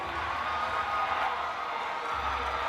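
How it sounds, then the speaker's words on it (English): Crowd cheering at a roller derby bout, a steady wash of shouts and whoops from many spectators, loud and sustained without a break. "All that cheering for the Bad Reputations paid off."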